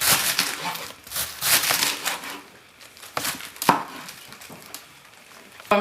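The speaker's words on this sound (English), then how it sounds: "I'm done chopping the cabbage" A knife chops cabbage on a board for a big batch of Hmong egg rolls, irregular crisp thuds and crunchy crackles in bursts with short pauses, close and fairly loud.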